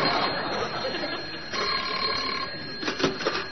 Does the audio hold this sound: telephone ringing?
yes